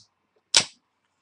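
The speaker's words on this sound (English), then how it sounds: "pepsi can opening. Listen close." A single sharp pop and fizzing hiss as a Pepsi can is cracked open, brief and close in an otherwise quiet space.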